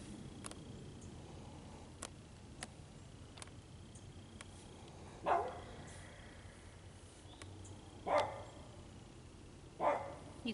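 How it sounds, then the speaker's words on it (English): A dog named Dory barks off in the background of a garden where spring vegetables are being planted in a raised bed: three or four short, distant barks spaced a few seconds apart, faint over steady outdoor ambience. "You can hear Dory barking in the background."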